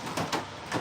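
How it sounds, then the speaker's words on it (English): A door swings shut indoors in a workshop, giving a few short knocks and scrapes in quick succession at moderate volume. "Let me close that door."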